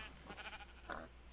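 Short wavering bleats of sheep in the Minecraft video game, two quick faint calls in about a second with no talk.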